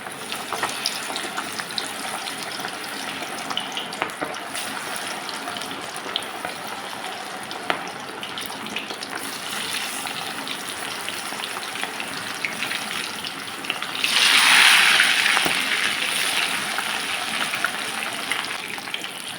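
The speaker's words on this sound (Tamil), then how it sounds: "இப்போ நம்ம எண்ணெயில் போட்டு பொரித்து எடுத்துக்க வேண்டியதாங்க" Marinated quail for kadai 65 fries in hot oil, giving a steady crackling sizzle with scattered pops, which swells into a louder burst of bubbling partway through before easing back.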